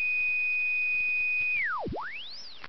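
A high voltage musical plasma arc sounds a steady pure whistling tone that suddenly swoops down to a deep low point and glides back up to a high pitch, fairly faint, with no talking.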